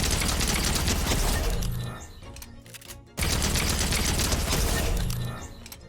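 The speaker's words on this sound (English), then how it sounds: "heisted run and gun SMG, 10 meters out, hip firing," Heisted run and gun SMG hip-firing in Fortnite Chapter 4, two rapid sustained bursts of fast rattling gunfire separated by a short break, loud and close.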